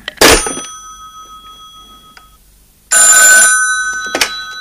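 An old-style telephone bell rings loudly in two bursts separated by a pause, each burst a harsh metallic jangle that decays into a lingering tone, with no voices present.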